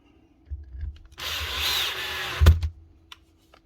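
Cordless Makita or DeWalt power drill driving screws on a workbench, one sustained whirring burst of about a second and a half with a sharp clunk as the screw seats, surrounded by quiet handling noises.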